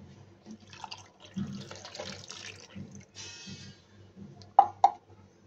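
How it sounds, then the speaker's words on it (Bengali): Water is poured into a cooking pot of washed taro corms, a soft splashing pour with a few louder slosh peaks near the end, fairly close and otherwise quiet. "এবার পানি দিয়ে দিব"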